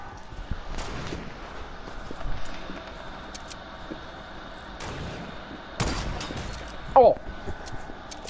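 Gunfire in a video game, with scattered sharp shots and impacts spread across the scene amid footsteps and background game noise, fairly quiet overall.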